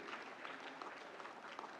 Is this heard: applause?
yes